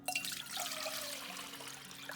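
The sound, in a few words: water being poured for healing tea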